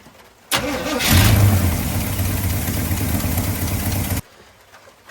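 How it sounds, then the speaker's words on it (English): A 1985 Chevrolet C20 truck that sat for more than ten years is cranked briefly. Its engine catches and runs with a loud, steady low rumble for about three seconds, then shuts off abruptly. "once I crank it up, another quart's gonna go to that oil filter"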